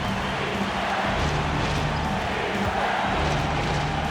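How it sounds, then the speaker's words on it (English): Excited basketball arena crowd roaring and cheering after a huge shot in a double-overtime game, a dense, loud, continuous wall of crowd noise with no let-up. "And this crowd ecstatic. They are pumped up."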